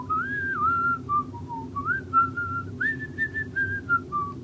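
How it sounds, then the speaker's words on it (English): A person whistles a short, gentle little song alone, the melody rising and falling in smooth phrases for several seconds, clear and close. "I'll just whistle."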